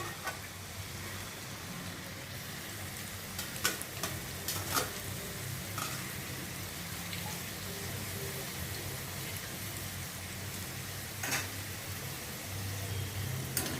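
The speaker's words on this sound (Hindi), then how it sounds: "अभी दोबारा इनको मैं फ्राई करती हूँ ताकि ये अच्छी तरह से ये क्रिस्पी हो जाए।" Potato finger fries get their second fry in hot oil, giving a steady, dense sizzle with occasional sharper crackles and pops throughout.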